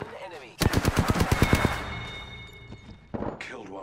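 Rapid automatic gunfire in the Apex Legends shooter, a fast burst of about a dozen loud, close shots, then a ringing tail and a few more shots near the end.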